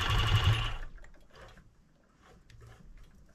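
A sewing machine stitches fur with its thread tension set too loose, making a loud, rapid whirring run at the start that breaks off into quieter, intermittent mechanical clicks and taps.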